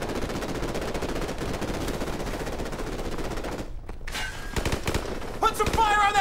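Dense, rapid automatic gunfire and shots from Call of Duty Modern Warfare Remastered, loud and sustained, briefly dropping away near the middle before bursts and battle noise return.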